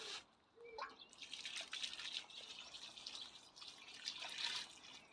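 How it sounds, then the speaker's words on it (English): Water from a watering can trickles and splashes faintly onto a potted magnolia, a soft, uneven pouring patter with a faint bird call in the background. "Just going to get the watering can and water this in somewhat"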